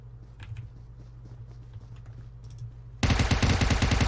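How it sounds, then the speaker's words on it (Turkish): Gunfire in the video game PUBG Mobile, faint scattered shots at first, then a sudden loud, rapid automatic burst close by for the last second. "Şuradan biri vuruyor bize."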